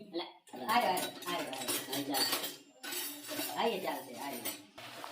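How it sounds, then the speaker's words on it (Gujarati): Spoons and metal utensils are rummaged through at an outdoor winter cooking gathering with friends, producing loud, busy jangling and clinking for several seconds, with brief pauses, while voices are heard alongside. "ચમચો ગોતવામાં આવી રહ્યો છે."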